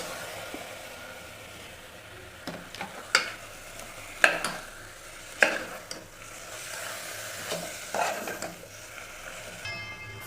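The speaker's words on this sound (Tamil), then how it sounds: "ஃபைவ் மினிட்ஸ் போல் சிக்கனை நல்லா வதக்கி விட்டுக்கோங்க" Chicken being sautéed for biryani in a pan, a soft continuous fry under repeated sharp scrapes and clinks of a spoon stirring against the metal, several distinct strokes spaced a second or so apart.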